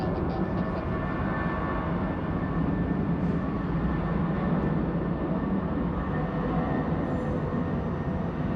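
A Lufthansa airliner at Bangkok airport produces a steady, broad jet engine roar at moderate distance, sustained without change for several seconds, with no voices.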